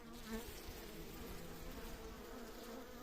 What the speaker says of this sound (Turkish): Gördüğünüz üzere polen arılarımız.